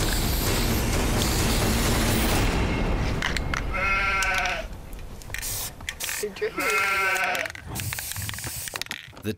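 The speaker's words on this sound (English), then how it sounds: "The teens have discovered Stella, a sick sheep that was rescued by the Lytles." A sick rescued sheep bleats twice at close range, with harmonic cries a few seconds apart, after a stretch of loud rushing noise, with people talking nearby.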